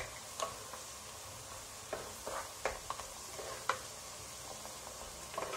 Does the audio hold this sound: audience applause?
no